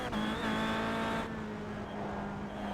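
A Kia Cup race car at Lime Rock powers out of an uphill right-hand bend, its engine note droning steady and loud before the pitch drops at a gear change, then continuing to pull.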